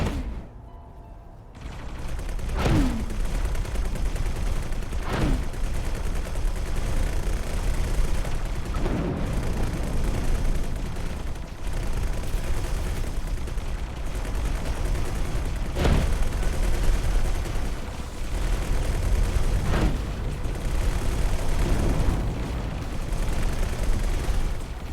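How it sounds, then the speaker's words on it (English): Weapons in the space game X4 Foundations fire a heavy, booming shot about every three seconds over a constant loud rumbling hum, each blast distinct and resonant. "I do like that audio for the gun."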